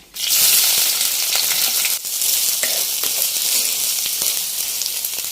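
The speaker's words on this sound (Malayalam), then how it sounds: "ബാക്കിയുള്ള സാധനങ്ങൾ സവോളയും ഇഞ്ചിയൊക്കെ ഇതിലേക്ക് ഇട്ട് വഴറ്റിയെടുക്കാം" Onions and ginger sauté in a pan for a Kerala-style beef roast, producing a continuous bright sizzle with occasional crackles and spoon taps.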